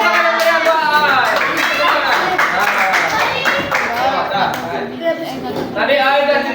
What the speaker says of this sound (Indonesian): Mana tepuk tangan yang meriah buat Aai.